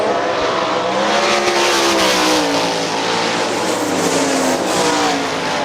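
Sprint race cars at Hartford Speedway Park roaring around the oval during a heat race, a loud continuous engine howl with shifting pitch as cars pass and accelerate.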